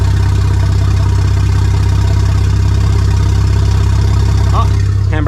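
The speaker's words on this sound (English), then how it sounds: "You can hear the car. So that's 500 RPM." Car with a forged BMW N54 engine idling at around 500 RPM, a loud, steady low rumble close by with a pulsing throb, carrying on without a break.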